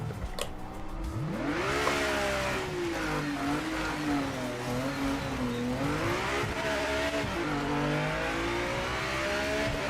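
A hybrid Cadillac race car in a racing video game revs its engine continuously, a loud, rising and falling whine that climbs through the gears and holds steady near at hand, with no talking.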